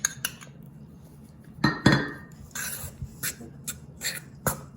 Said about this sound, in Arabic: رح احركهم لوث الجوز بالطحين